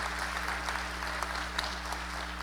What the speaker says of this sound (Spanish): aplausos para este panel de lujo que nos acompaña